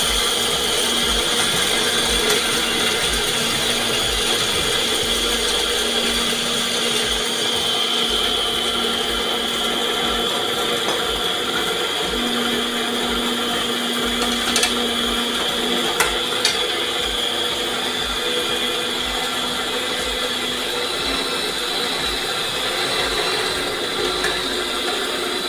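A blender whirs steadily while blending raw vegetables for a vegetable broth, a loud continuous motor whine with grinding texture throughout, no talk.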